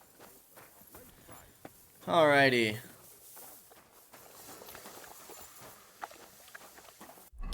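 A burst of rapid clip-clopping horse hooves in the video game Kingdom Come: Deliverance II, loud and close, lasting under a second amid quiet background sounds, with a brief spoken word later.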